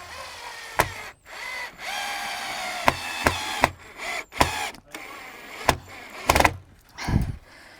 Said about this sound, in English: I'm just going to put this big screw in to keep it fastened in properly.